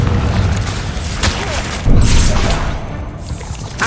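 Confringo explosion spell in the Hogwarts Legacy game, a dense rumbling blast with booming low thuds and crackling bursts, loud and close throughout.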